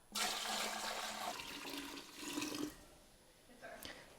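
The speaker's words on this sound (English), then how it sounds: "we're going to drain the whey to the level of the curd again" Whey draining from washed Gouda cheese curd, a steady watery pour that runs for about a second and a half, eases, then returns in shorter surges, close and fairly loud.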